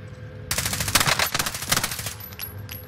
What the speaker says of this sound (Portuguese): Ele está aos tiros lá no fundo.